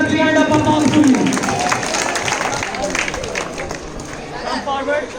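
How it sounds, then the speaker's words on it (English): A crowd claps and cheers amid chatter and voices, the applause strongest at first and gradually tapering off. "Please give a big hand of applause to you."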